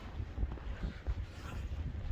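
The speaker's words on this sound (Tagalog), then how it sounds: "Malakas ang hangin." Steady winter wind buffets the microphone with low rumbling gusts, fairly faint, no voices.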